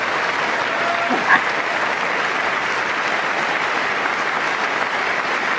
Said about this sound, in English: Look at the Democrats clap for that one.